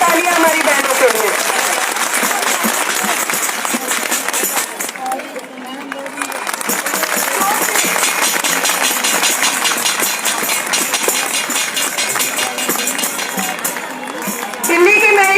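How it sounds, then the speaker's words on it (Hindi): A crowd at an Anganwadi workers' sit-in protest applauds loudly and steadily, with dense continuous clapping that carries on for the whole stretch and voices mixed in beneath. "बहुत जोरदार तालियां हमारी बहनों के लिए।"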